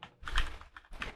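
Short burst of keystrokes on a computer keyboard while a command is entered, a few quick clicks close up with no talking.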